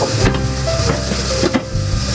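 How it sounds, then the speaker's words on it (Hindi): Tomato puree and spices frying in a pan for arvi (taro root) bhujia, giving a steady loud hiss and sizzle with a few brief clinks of a utensil against the pan, close up and without talk. "अब इस टमाटो प्यूरी के साथ इन सारे मसालों को आपने 10 मिनट तक भूनना है।"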